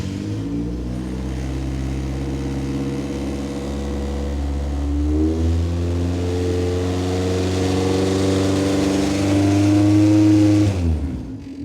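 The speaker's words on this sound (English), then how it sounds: "So I'm going to give some throttle and see what happens." Car engine fitted with a small muffler revving under throttle, a loud droning exhaust note that climbs steadily in pitch and volume before cutting off at the end.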